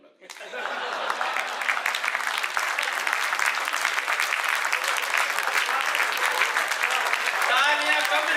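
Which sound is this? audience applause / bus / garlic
audience applause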